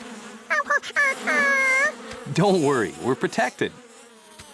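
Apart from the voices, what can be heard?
bees buzzing around flowers in a cartoon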